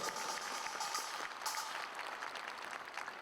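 A quiet, steady patter of audience applause fills a party training session hall at a political event, dense clapping with no voices over it.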